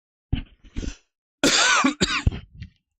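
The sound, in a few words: cough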